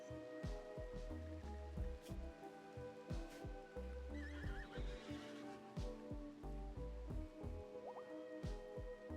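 A horse neighs in the game RimWorld over a looping soundtrack, with soft dripping and rain-like ambience and occasional hoof clops in the background.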